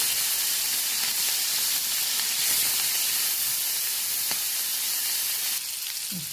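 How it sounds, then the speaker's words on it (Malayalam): Sardines rubbed with pepper and chilli powder frying in hot coconut oil, giving a steady, dense sizzle and hiss that runs through the whole stretch without talk. "വെളിച്ചെണ്ണ ചൂടായിരിക്കുന്നു. ഇതിൽ കുരുമുളകും മുളക് പൊടിയൊക്കെ തേച്ച് നല്ല അടിപൊളി ടേസ്റ്റുള്ള മത്തിയാണ്."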